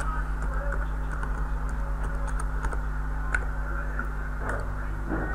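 A password is typed on a computer keyboard in light, quick clicking keystrokes scattered over a steady low hum, close and fairly quiet.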